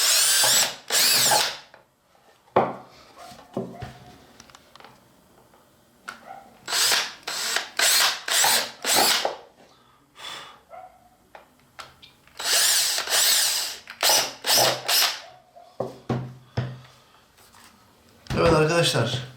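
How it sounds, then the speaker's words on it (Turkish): A cordless drill bores through a plastic part in several bursts of whining motor noise, some long and some short, stopping and starting between them, with someone talking in the pauses. "Ben şarjlı matkap kullanıyorum."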